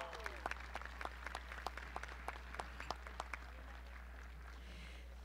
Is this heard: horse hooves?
no